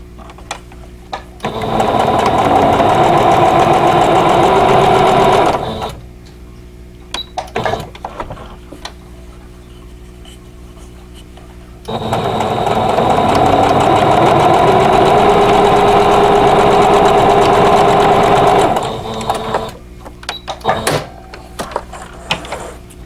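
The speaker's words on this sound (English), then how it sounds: "So if I stitch just to the outside of that line where they cross, then I'll preserve the point." A sewing machine stitches a flying geese quilt block in two long, steady runs of loud motor hum at close range, separated by a pause with small clicks and handling noises.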